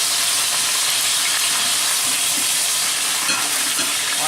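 Pork chops browning in a frying pan give a steady, close sizzle and crackle that runs unbroken throughout, with a few soft stirring scrapes near the end.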